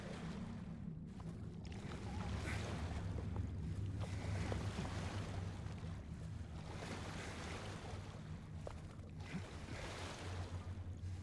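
Rowing boat gliding across water in the Silent Hill 2 Remake video game, a steady wash of lapping waves and wind-like noise with low drones, continuous and fairly loud throughout with no talk.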